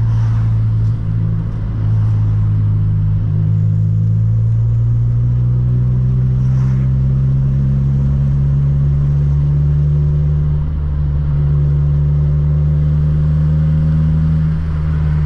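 A 1990s Honda Civic's engine drones steadily while driving at night, a loud close cabin rumble with the revs rising and shifting gradually over about fifteen seconds, and no talk.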